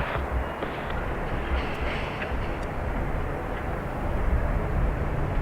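Logan Air plane taking off from runway 28R at Dublin Airport, a steady distant roar of jet or turboprop engines with a low rumble, heard alone without talk.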